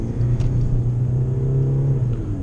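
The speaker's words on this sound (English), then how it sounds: "I was just kind of revving the car out" A car engine revs on ice, a loud close rumble with a steady mid-pitched drone holding throughout, the tone wavering slightly as the throttle is held, with no voices.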